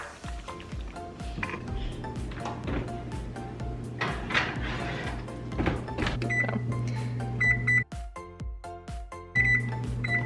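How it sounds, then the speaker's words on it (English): A tray of oven fajitas is slid into a home oven, with kitchen clatter, a door opening and thudding shut, and a few electronic beeps over background music. "So now we're just gonna throw this in the oven after I wash my hands."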